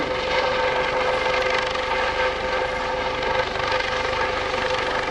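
A US Coast Guard search and rescue helicopter hovers at a lakeside airshow, its loud, steady rotor and turbine roar filling the air close by without a break and with no voices.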